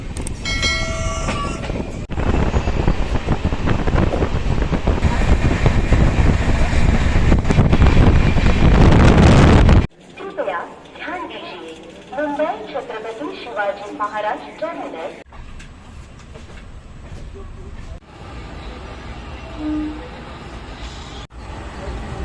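Udayan Express train running between stations in Karnataka, with loud rumbling wind-swept noise for about ten seconds, then quieter carriage rattle and clatter with voices talking in the background.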